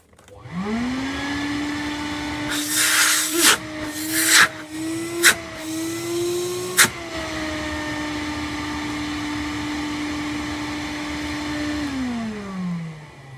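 Industrial wet and dry vacuum cleaner switching on, its motor rising to a steady loud whine with a few sharp bursts of suction noise early on, then running evenly before winding down at the end.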